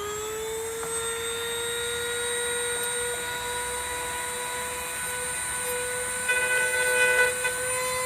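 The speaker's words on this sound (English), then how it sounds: "We're going to start cutting into the factory bumper." A cutting tool biting into a factory truck bumper gives off a steady, droning whine with a slightly shifting pitch, plus a brief rougher patch near the end.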